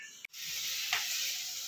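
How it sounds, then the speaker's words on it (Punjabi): Tadka (tempering) sizzles in a pan in a home kitchen, a steady close hiss broken by a brief pause, with faint stirring under it. "ਦੇਖੋ ਜੀ ਇੱਧਰ ਲੱਗ ਗਿਆ ਤੜਕਾ"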